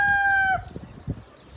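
A rooster in a rooster pen finishes a loud, close crow that ends abruptly, followed by soft scuffling and faint clucks.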